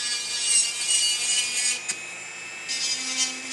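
A high, steady whine and grinding from an electric nail drill filing an acrylic nail's smile line, running almost continuously with brief dips and a short pause partway through.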